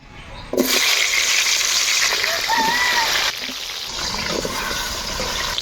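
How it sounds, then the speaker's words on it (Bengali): Garlic hits hot mustard oil with a sudden loud sizzle that settles into a steady, close frying hiss, dipping slightly partway through as it keeps cooking. "রসুনগুলাকে এভাবে আস্তে আস্তে ভাজি নিব"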